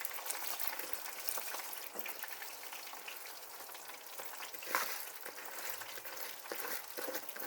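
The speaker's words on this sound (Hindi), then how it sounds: "अब देखें पानी पक रहा है, तो अब मैं इसमें ये बिस्मिल्लाह करके चावल डाल दूँगी" Rice tumbles into a pot of boiling water, giving a faint, steady hiss and bubbling with scattered small patters and ticks throughout.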